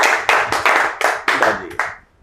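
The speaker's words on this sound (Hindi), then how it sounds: "एक बार इनके लिए भी जोरदार ताली।" A small group claps loudly and close by in a classroom at an AC PCB repairing training institute, with distinct uneven hand claps that stop after about two seconds.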